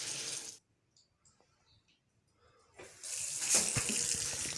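Water running from a tap in a hospital toilet, a strong rushing stream that cuts off into near silence and then gushes back, loud and close, with no voices.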